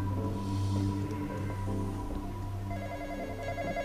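A telephone rings in the Roblox game The Intruder, a sustained electronic ringing tone over a dense, steady game background, with no talk.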